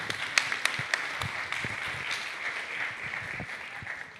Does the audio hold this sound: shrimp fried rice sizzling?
no